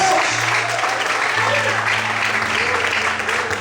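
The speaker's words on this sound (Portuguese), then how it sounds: "Você pode aplaudir a Deus?" Sustained applause from a church congregation rolls on continuously, loud and fairly close, with low sustained tones and faint voices underneath.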